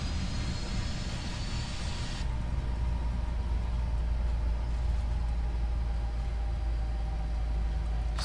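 A Norwegian Boeing airliner in a flight simulator engages reverse thrust after landing at Porto, and a steady engine roar swells into a deep, sustained low rumble that stays loud and even throughout, with no talking.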